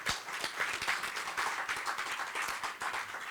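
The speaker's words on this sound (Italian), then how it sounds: "gli facciamo anche un applauso" An audience applauds at a public event in the Fortezza del Priamar in Savona, a steady wash of many hands clapping at moderate distance for a few seconds.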